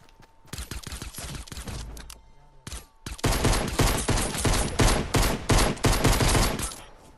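Rapid bursts of gunfire in the video game Fortnite, dense and loud, with a short lull before a heavier sustained barrage of overlapping shots from a firefight around a building.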